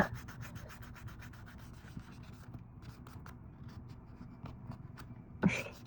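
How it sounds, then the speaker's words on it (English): A nail file rasps across a toenail to smooth away ridges during a pedicure, giving quiet, close scratchy strokes in an irregular back-and-forth rhythm, with a brief louder scrape near the end. "file it in and remove that ridge."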